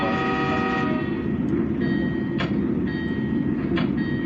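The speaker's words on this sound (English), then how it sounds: "Using dynamic braking and train brakes at the same time to get speed back down." A locomotive slowing under dynamic braking combined with train brakes in a train simulator game gives a steady low rumbling drone with a layered mechanical whine, plus brief higher hisses or tones at intervals.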